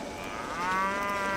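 Cattle mooing in the Railway Empire train-management game, a single long, loud, drawn-out moo with a clear tonal call rising to full strength midway and holding to the end, with no talk over it.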